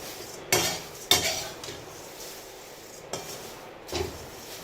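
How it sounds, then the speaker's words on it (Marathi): Onion is stirred in a hot kadhai over low heat, a spoon scraping and clanking against the metal in a few sharp strokes over a faint background sizzle, close by and with no voices. "कांदा तर एकदम सतत असा हलवत राहा आणि मंद आचेवर भाजणे"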